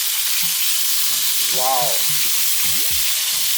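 Wagyu steak sizzles and fries in a pan with a steady, loud hiss running through the whole stretch, while a voice exclaims briefly over it.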